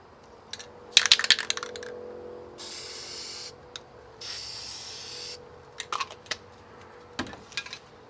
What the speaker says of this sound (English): you can tell just the difference in the type of nozzle spray